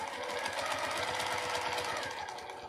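A sewing machine stitches through fabric while sewing a tissue box cover, giving a steady, fast mechanical chatter that runs close and continuous for the whole moment with no talk over it.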